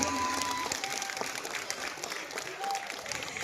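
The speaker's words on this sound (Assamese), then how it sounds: "এবাৰ বিচাৰিছোঁ আমাৰ বাবে আপোনালোকৰ পৰা এজাউৰি হাত চাপৰি" An audience claps steadily, a dense patter of hands with faint voices mixed in, gradually easing off.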